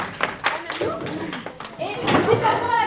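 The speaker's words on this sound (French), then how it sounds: "On les applaudit" Scattered, uneven clapping from a small audience at a high school civic-education event breaks out under ongoing talk, a few hands striking in loose rhythm.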